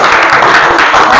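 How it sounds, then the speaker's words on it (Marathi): Children clap together at a village primary school quiz, a dense steady patter of small hands filling the room for just over a second, fairly loud with a faint murmur underneath. "टाळ्या वाजवायचं तिच्यासाठी."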